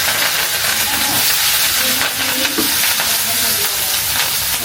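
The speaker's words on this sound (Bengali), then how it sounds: "আগে হচ্ছে আমি ডিমটা ভেজে নিব" Egg frying in a pan in a home kitchen, a continuous loud sizzle and hiss with crackling spatter and no talking.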